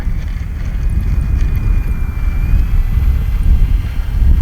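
Steady droning buzz of a radio-controlled 1100mm P-51 Mustang model plane's small propeller engine, fairly close and continuous, with a faint high whine above it.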